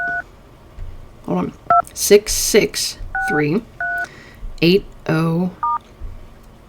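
Touch-tone keypad beeps ring out as a phone number is dialed, a run of short, clear DTMF tones in uneven rhythm, mixed with a man's speech nearby.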